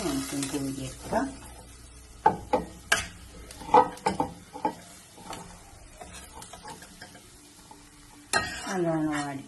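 Dates frying in oil in a pan while making a lemon and dates pickle, a soft sizzle under a series of sharp scraping and stirring clacks from a utensil, with a louder burst of sizzling near the end.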